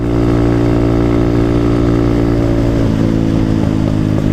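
Dirt bike motorcycle engine running loud and close, a steady throbbing mid-pitched drone that holds nearly constant with slight shifts in revs near the end, no voices.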